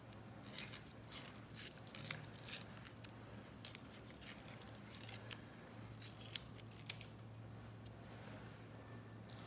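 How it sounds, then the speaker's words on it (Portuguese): Scissors snip through material while a miniature tire is trimmed, giving a steady run of small, crisp cuts at close range, fairly quiet, over a low constant hum. "Aí você pega a tesoura"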